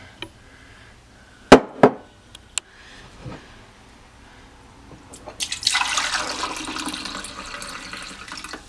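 Homemade kombucha is poured from a half-cup measure into a jar holding a SCOBY and starter tea; a few sharp knocks and clinks of glass come first, followed by a steady splashing pour that lasts several seconds.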